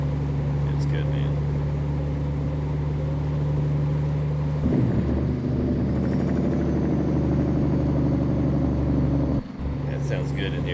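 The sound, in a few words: Kenworth W900 truck engine spooling, American Truck Simulator video game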